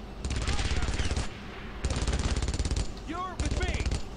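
Machine gun fire in the WWII shooter Brothers in Arms: Road to Hill 30, three sustained rapid bursts close and loud, separated by short pauses, with a shouting voice over the gunfire.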